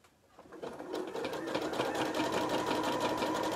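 A domestic sewing machine stitches a hot water bottle cover in a garage, starting up and settling into a fast, steady mechanical whirr with a rhythmic needle chatter, close and alone.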